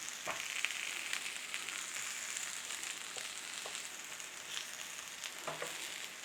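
Beef sizzling in olive oil and bacon fat in a hot pan, a steady quiet hiss with a few soft clinks and scrapes; no voices.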